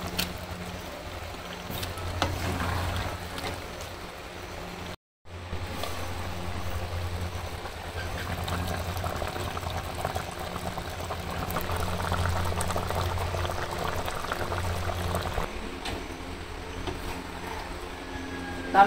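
A village-style fish curry bubbles in a pot as fish is added and stirred, a soft continuous simmer with faint liquid sounds and brief pauses, quiet and close throughout.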